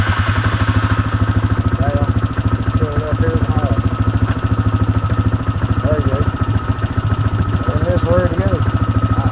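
ATV engine idling with a loud, steady low throb and rattly mechanical clatter, close up, while people talk over it.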